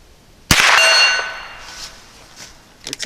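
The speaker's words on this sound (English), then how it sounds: "It should hit that gong pretty good." A bullet from a Henry Frontier long-barrel rifle strikes an AR500 steel gong target at 50 yards: one loud, sharp metallic clang rings out and fades over about a second, with faint outdoor noise after.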